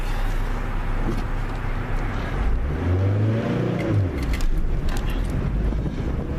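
A car pulling away in first gear with a bit too much gas, the engine note rising in a clear revving sweep over steady road and wind noise, close and fairly loud.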